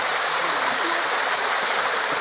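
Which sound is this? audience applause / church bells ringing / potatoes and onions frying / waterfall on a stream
waterfall on a stream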